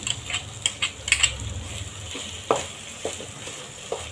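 Masala frying in oil with a spoon of tomato ketchup for a veg Maratha dhaba-style gravy, with a low steady sizzle under scattered spoon scrapes and stirring clicks, close and moderately quiet.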